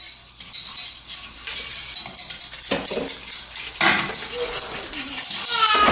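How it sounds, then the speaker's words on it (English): Metal whisk clinking and scraping against a dish while stirring two teaspoons of cornstarch into a sauce, a steady close clatter of cutlery on cookware with a few louder scrapes. "So we're just going to whisk that right in there."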